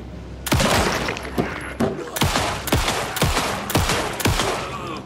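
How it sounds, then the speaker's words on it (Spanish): Gunfire in the video game Alan Wake 2: a rapid series of loud, sharp shots, about eight blasts in quick succession, each with a short booming decay. "Tengo que meterle muchísimos disparos"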